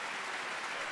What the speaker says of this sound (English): Can we give a round of applause for our deans and directors?